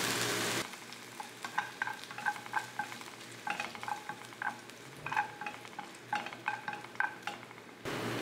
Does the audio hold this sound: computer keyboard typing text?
no